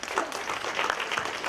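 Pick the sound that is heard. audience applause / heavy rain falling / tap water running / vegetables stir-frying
audience applause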